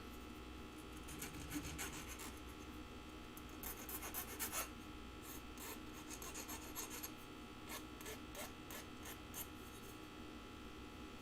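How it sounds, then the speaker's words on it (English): Sharp metal edges being filed down by hand, a steady rasping scrape with repeated strokes in a quiet setting, no voices. "if you have any sharp edges, do file them down just a little bit."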